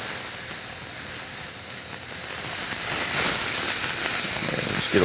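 Roast beef sears in a pan on an induction cooktop with a steady, loud sizzling hiss up close, the crackle swelling slightly toward the end.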